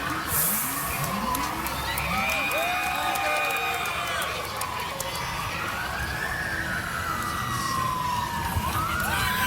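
A dense, sustained roar of a large stadium crowd at a Clemson–LSU football game, heard as team buses pull up, with sirens of escorting emergency vehicles wailing and sweeping over the crowd noise throughout.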